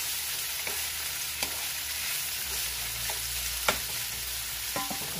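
Chicken fajitas sizzling steadily in a pan on the stove, with a few knocks and scrapes from stirring breaking through the constant frying hiss.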